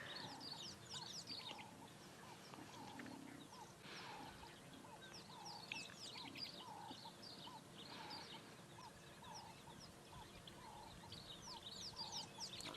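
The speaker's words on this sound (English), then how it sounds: "I'm sure you can hear all the little birds chirping as well." Small birds chirp and tweet continuously at sunrise, with faint quacking and soft background rustle throughout.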